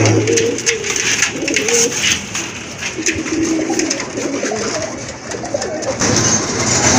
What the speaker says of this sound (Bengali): আরেক জোড়া কবুতর রাজগোল্লা কবুতর বিগ সাইজের